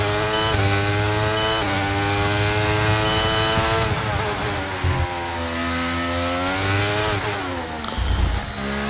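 Race car engine at Singapore screaming at high revs and dropping rapidly down through the gears into first, with stepped pitch falls, brief blips and a short shift up, loud and close throughout.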